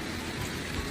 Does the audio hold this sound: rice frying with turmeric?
no